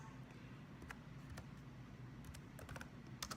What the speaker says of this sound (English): I'm typing with one hand and I am typing backwards